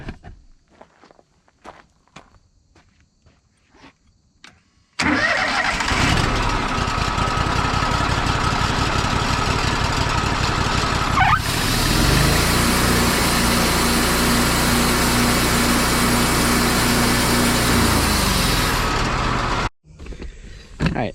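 A sawmill engine fitted with a new alternator starts abruptly after some footsteps and handling noises, then runs loudly and steadily close by for about fifteen seconds, with its tone shifting partway through before it shuts off abruptly.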